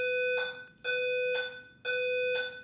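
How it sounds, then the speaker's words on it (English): A fire alarm sounds three long, loud electronic beeps with short gaps between them, a steady harsh tone with no voices over it. "That is a fire alarm."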